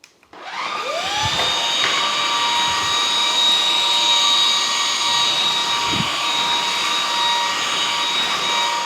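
A Jashen V16 cordless vacuum cleaner spins up after a brief click and then runs with a steady high-pitched motor whine, with faint rattles of picked-up debris along the way.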